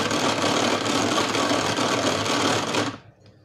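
An electric mixer whips egg whites for a marble cake, a loud, steady whirring drone with a close buzzing rattle that runs unbroken for about three seconds and then cuts out abruptly.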